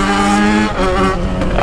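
Yamaha XJ6 or Honda Titan motorcycle revving hard, with a loud, close engine note that climbs in pitch and then surges again.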